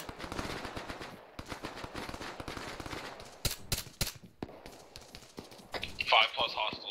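Rapid bursts and single cracks of Arma 3 small-arms gunfire during a firefight, loud and dense throughout, with sharp isolated shots standing out near the middle and radio-style talk layered over the shooting.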